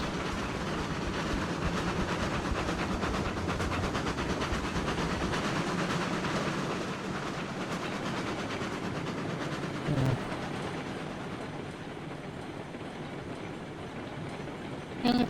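Long freight train hauling logs behind two locomotives in the Railroads Online game, rolling steadily with continuous rumble and clattering wheels throughout, a caboose at the rear, with a brief louder knock near the end.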